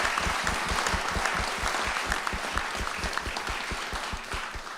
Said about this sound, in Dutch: Geef Francisca de Vries een warm applaus.